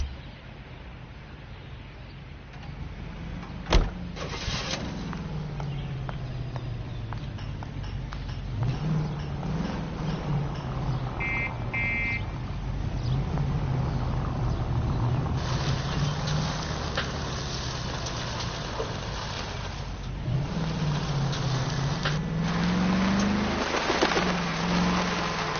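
Steady engine drone of a car driving in a PS4 video game, a continuous low hum rising and falling in pitch as it accelerates and slows, with a sharp thump near the start and no talking.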